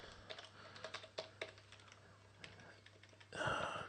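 Someone types on a computer keyboard in a series of quick, irregular keystrokes, fairly close and clear, ending with a brief louder burst of noise.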